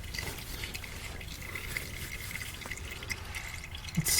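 Engine oil draining from the oil pan of a 2018 Ford Edge Sport with a 2.7L EcoBoost V6, a faint, steady trickle with light dripping in a quiet garage, ending in a brief louder bump.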